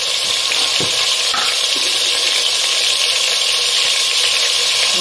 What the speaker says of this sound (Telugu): ఆయిల్లో మటన్ ముక్కలు వేస్తున్నాను, కొంచెం పసుపు, కొంచెం ఉప్పేసి